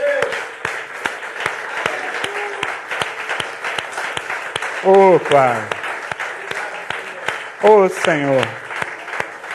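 Congregation clapping in church after a sermon, a regular rhythmic clap running steadily under a preacher's amplified voice, which speaks over it in bursts.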